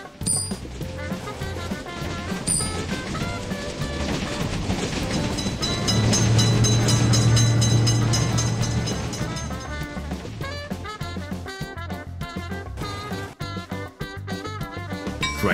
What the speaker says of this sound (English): Attention! Train is coming! Train is in sight!